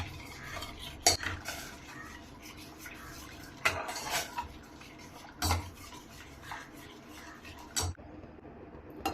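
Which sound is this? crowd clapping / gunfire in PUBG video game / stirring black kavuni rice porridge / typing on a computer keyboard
stirring black kavuni rice porridge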